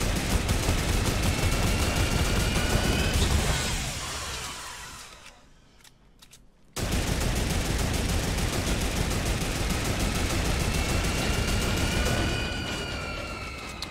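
Shooter video game gunfire, a continuous dense barrage of loud rapid shots that stops briefly for a couple of seconds, then resumes just as heavily.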